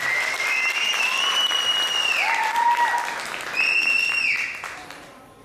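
An audience at a Christmas event claps for the organizing committee, a dense sustained round of applause under a drawn-out tonal sound that fades away near the end.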